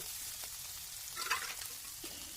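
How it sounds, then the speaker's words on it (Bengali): Chicken pieces sizzle steadily in a hot wok as they are stirred, with a continuous soft frying hiss and a brief louder scrape and spatter midway. "লেবুটা দেওয়ার পর আমি একটু আবার নেড়ে চেড়ে নিলাম"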